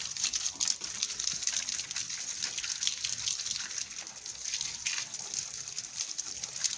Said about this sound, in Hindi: थोड़ा थोड़ा सभी पौधों को पानी दे दूँगी।